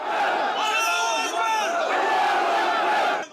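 Crowd of demonstrators marching through the streets of Grozny, their massed voices forming a loud, steady roar of chanting and shouting close by throughout.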